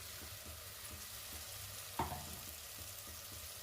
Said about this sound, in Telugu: ఈ పేస్ట్ వేసిన తర్వాత అండి బాగా ఫ్రై అవ్వాలండి, పచ్చి వాసన పోయే వరకు